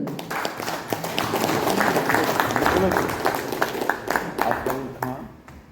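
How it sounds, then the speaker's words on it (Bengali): A group gives loud applause at a company team gathering on a tour, an energetic burst of clapping close by that swells and then tapers off, with voices mixed in. "জোরে করতালি হয়ে যায়।"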